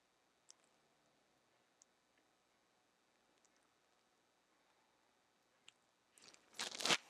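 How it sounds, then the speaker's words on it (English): Frozen garden hot peppers are cut on a board, giving a few faint isolated clicks and then a short, louder burst of crunchy chopping near the end, all close and otherwise quiet. "So I'm going to cut up all these peppers and then we'll proceed."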